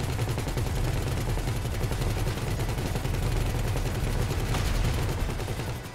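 Cannon fire in the video game GTA 5 during the Valkyrie heist mission: loud, dense, continuous rapid bursts of automatic gunfire with a heavy low rumble, running unbroken throughout.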